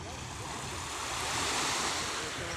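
Sea waves washing onto a clear-water beach, a steady, soft rush of surf with some wind noise against the microphone and no talking.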